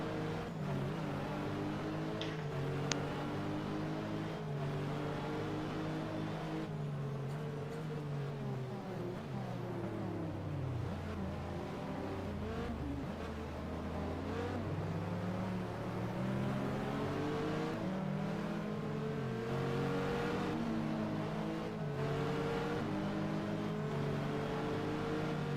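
Dodge Viper race car engine in a 2000 FIA GT racing video game at Zolder, revving steadily and climbing through the gears with rising and falling pitch, loud and continuous with no talk.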